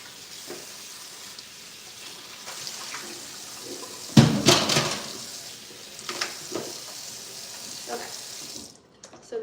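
Tap water runs steadily in a kitchen sink while shrimp are rinsed, with a louder gush of splashing midway and quieter trickles around it, then a sudden stop near the end.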